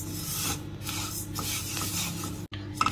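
A utensil stirs and scrapes sesame seeds roasting in a pan in a continuous rasping, close and fairly loud, with no voices.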